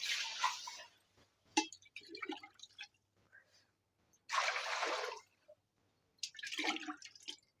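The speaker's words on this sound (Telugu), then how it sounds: "ఇది నార్మల్ కళాయి కదా దీంట్లో నీళ్లు పోస్తున్నాను" Water poured into an ordinary kadai comes in three separate gushing splashes with quiet gaps and a few small drips between them, heard up close.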